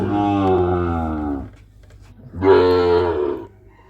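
Two long, loud moos from a nearby cow at a cattle market, each drawn out for over a second with a short pause between them.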